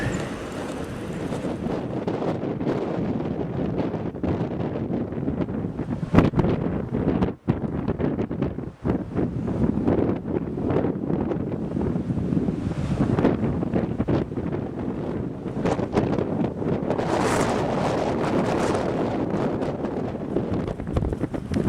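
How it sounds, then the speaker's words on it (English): Snowstorm wind gusts buffet the microphone as a loud, continuous roaring rush with surging blasts and brief dips, and no voices are heard. "Just check out the way the wind is whipping the snow up."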